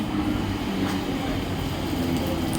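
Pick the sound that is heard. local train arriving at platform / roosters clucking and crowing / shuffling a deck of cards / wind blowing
local train arriving at platform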